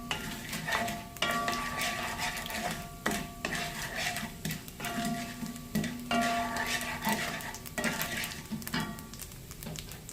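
Dal lentils frying in a pan, with a steady sizzle broken by frequent clinks and scrapes of a spoon against the pan, close and moderately loud, with no talking.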